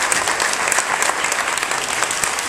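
An audience gives a loud round of applause, many hands clapping in a dense, bright, sustained wash at close range with no voices over it.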